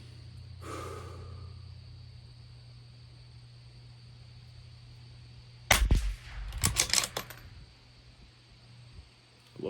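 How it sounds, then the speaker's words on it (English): Bergara B14R Carbon rifle firing at 50 yards on an outdoor range: a sharp loud shot followed by a cluster of cracks and clatter, then quiet with a steady low hum in the background. "we're gonna shoot 10 shots at that cross section"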